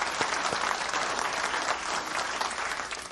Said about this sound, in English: would you join me in a round of applause for these folks?